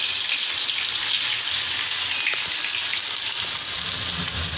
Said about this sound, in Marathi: तेल आपलं गरम झालंय मोहरी टाकून घेते जिरं टाकते